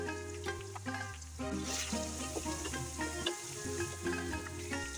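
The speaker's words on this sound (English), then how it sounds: "Fry it for at least 5 to 10 minutes." Chicken leg pieces fry in a pan, giving a steady sizzle and crackle with occasional pops, mixed with a continuous tonal hum and melody running throughout.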